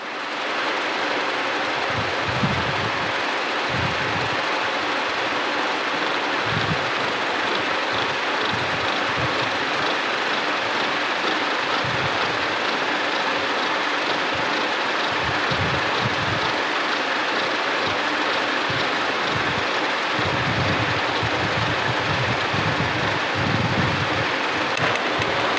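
A horizontal milling machine cutting gear teeth on a blank indexed by a dividing head, a steady broadband machining roar with rhythmic low thumps from the cutter, continuous and fairly loud with no talking.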